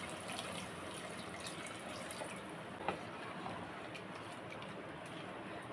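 Water poured into mutton curry in a pressure cooker, a faint continuous liquid wash with a light splash partway through, no voices.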